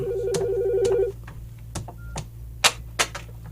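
A telephone rings with a warbling electronic trill for about a second, then gives way to several sharp clicks and knocks in a quiet room.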